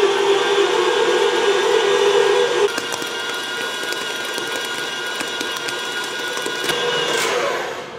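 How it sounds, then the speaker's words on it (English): A stand mixer motor whirs steadily while kneading bread dough, its pitch dropping partway through as the load changes, with light rhythmic knocking and clicking from the mechanism; close and continuous, no speech. "Now you want to run your mixer for about 5 to 10 minutes until a nice ball of dough forms."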